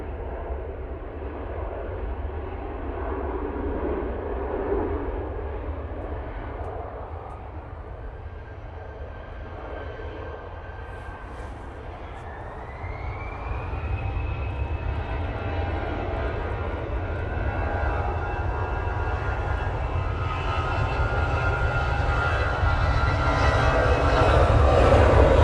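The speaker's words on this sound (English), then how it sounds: "A320 now on the roll, going back to Dublin." An Airbus A320 rolls for takeoff on a windy day at Manchester Airport, a continuous jet engine roar that rises in pitch and grows steadily louder as it spools up.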